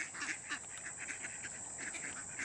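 A group of ducks quacks loudly and repeatedly near a garden composter, with overlapping nasal calls in a busy, irregular stream and a steady high whine in the background.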